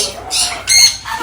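A parrot at Ziggy's Bird Sanctuary, among cockatoos and macaws, gives two loud, harsh, close squawks in quick succession, with a person's voice faintly nearby.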